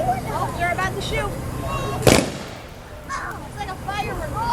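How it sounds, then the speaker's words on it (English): A single sharp, loud gun salute blast at a Memorial Day parade cuts through people chatting nearby, followed by a brief echoing decay. "Oh, they're about to shoot."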